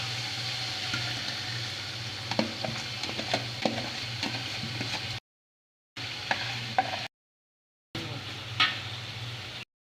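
Ground chili, coriander, cumin and turmeric fry in a pot for olive pickle while a spoon stirs them, giving a soft, steady sizzle with scraping clinks, broken by two short silent gaps.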